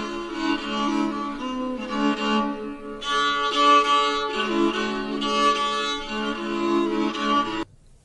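A bowed fiddle, the medieval string instrument held under the chin, plays a sustained melody in long sustained phrases with brief gaps between bow strokes, close and clear with no voices.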